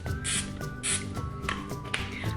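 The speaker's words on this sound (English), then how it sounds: "So you open it up and give it a quick little spritz." Canola oil cooking spray gives a waffle maker a few short, breathy hissing spritzes, close by and clear, with small taps in between.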